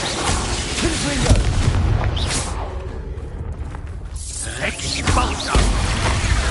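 A Confringo fire spell explodes in Hogwarts Legacy, a loud, dense booming blast with crackling burst that fills the whole stretch, layered with other combat sounds and rumble.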